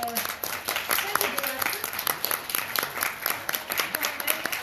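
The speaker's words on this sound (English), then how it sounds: "A big round of applause for our center" An audience at a NASA Jet Propulsion Laboratory social media event claps in a steady round of applause while a presenter's voice carries over it.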